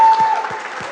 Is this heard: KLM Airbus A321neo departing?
no